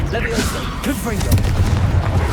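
A Confringo fire spell explosion in Hogwarts Legacy, a booming blast with a rumbling tail, heard under game voices and battle noise.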